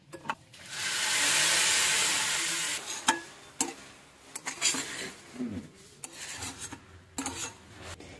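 Semolina upma stirred in a pan as water is added, a harsh rasping scrape that sizzles steadily at first, then breaks into irregular scraping strokes and light clicks of the utensil against the pan.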